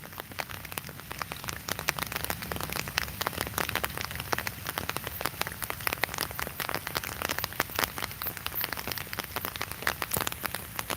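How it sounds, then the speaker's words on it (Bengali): Steady rain pours down continuously in Sylhet during the dry winter season, a dense patter of drops striking a surface with no voices, holding an even intensity throughout. "সময় থেকে এভাবেই কিন্তু বৃষ্টি পড়ছে"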